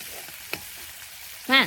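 Prawns fry in a pan with a faint, steady sizzle, then a brief squeaky, tonal chirp rises near the end.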